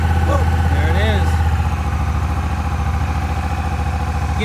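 A Honda Rebel 1100 DCT motorcycle idles close and loud with a steady, even engine throb, and a voice speaks briefly over it at the start.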